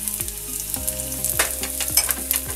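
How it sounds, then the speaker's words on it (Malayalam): Dried round red chillies fry in oil with mustard seeds and small onions for banana-stem erissery, giving a busy sizzle broken by repeated stirring scrapes, with quiet music behind. "പിന്നെ അതുപോലെ തന്നെ നമ്മുടെ ഉണ്ടമുളകും ചേർത്ത് കൊടുക്കാം."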